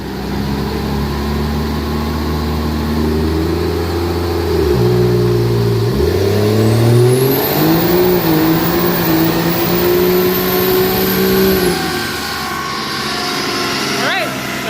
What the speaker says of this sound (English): it might be a little bit of a brake stand here, because trying to spool up the turbos